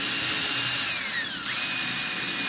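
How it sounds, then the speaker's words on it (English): An electric drill bores a small hole in aluminum, a steady high-pitched whine running throughout with a pitch that dips and shifts as the bit is worked in and out, loud and close with no talking. "So you want to continuously drill it in and out to clear the shavings out."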